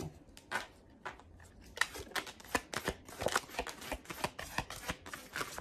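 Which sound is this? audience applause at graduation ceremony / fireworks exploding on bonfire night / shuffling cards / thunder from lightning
shuffling cards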